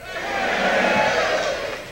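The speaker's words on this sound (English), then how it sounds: "Let's hear a big cheer!" An audience aboard the cruise ship SS Norway cheers and shouts at a live show, a dense crowd roar that swells and holds steadily for two seconds before easing slightly.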